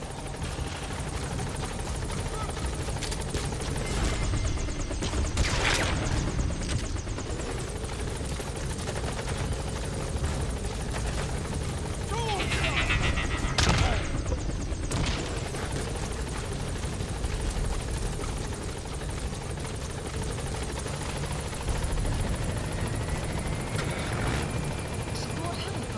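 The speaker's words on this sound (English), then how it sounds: "Support helicopter has arrived." A support helicopter arrives in the stealth action game Metal Gear Solid V, its rotor chopping and engine roaring steadily for a long stretch, with bursts of gunfire and talk over it.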